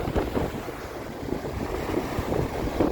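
Strong, cold outdoor wind buffets the microphone in uneven gusts, a rough, low rumble that swells and fades over a few seconds, with no voices.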